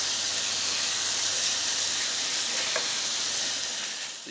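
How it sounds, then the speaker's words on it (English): Bacon frying in a hot pan, a dense continuous sizzle and hiss that stays steady and close throughout, with no talking over it. "The bacon is starting to cook."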